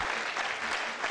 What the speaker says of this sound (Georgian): ტაშით დააჯილდოვეს.